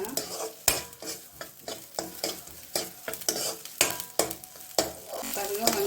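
Onions sautéing in a pan for a Tamil-style pasta: a steady close sizzle broken by frequent sharp spatula scrapes and stirring knocks in an irregular rhythm, with no talking.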